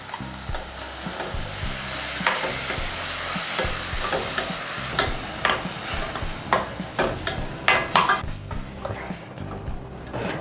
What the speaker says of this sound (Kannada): ಈಗ ರುಬ್ಬಿರೋ ಮಸಾಲೆ ಹಾಕೋಣ